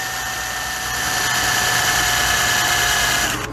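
A drill bores into a die-cast Hot Wheels-style toy car, a steady close whine with a constant motor hum that swells slightly and holds before cutting off at the end.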